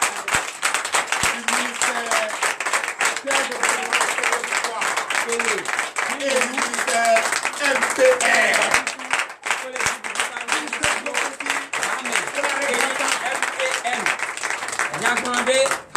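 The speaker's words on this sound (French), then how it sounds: "que je vous demande d'applaudir très fort" A congregation at a night deliverance and prophecy service in Gabon applauds loudly and steadily throughout, while a voice speaks over the clapping.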